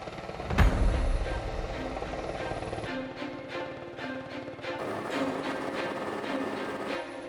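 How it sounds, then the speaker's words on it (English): A helicopter roars close by, a loud steady rotor drone with rhythmic chopping thuds and a deep boom near the start, no talking. "everything we've seen the helicopters take off"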